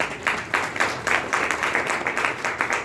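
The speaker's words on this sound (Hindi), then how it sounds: "इस अनुभव के लिए भी ताली बजाइए" An audience at a Bhagavad Gita discourse claps in a steady, fairly even rhythm of bright hand claps, continuous through the short stretch with no voice over it.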